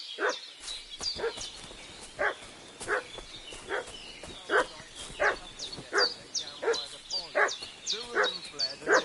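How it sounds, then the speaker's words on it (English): A dog in Kingdom Come Deliverance II barks repeatedly in an agitated, regular rhythm of sharp woofs and yips, moderately close, against a quiet outdoor backdrop. "What's that dog making such a fuss about?"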